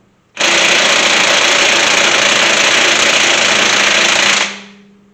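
A Ryobi 1/2-inch impact wrench on setting 2 runs on lug nuts in one steady, loud, continuous burst of about four seconds, then cuts off and winds down.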